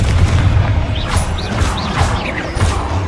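A Confringo spell explodes in the video game Hogwarts Legacy: a loud, sustained booming rumble with crackling blasts and swooping magical whooshes, with no speech over it.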